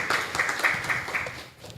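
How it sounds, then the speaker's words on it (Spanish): Audience applause welcoming the jury at a national essay contest on arbitration in public procurement: a brief burst of mixed clapping at moderate distance that softens quickly. "a quienes los recibimos con un fuerte aplauso"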